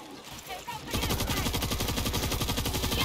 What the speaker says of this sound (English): I need to use my machine gun.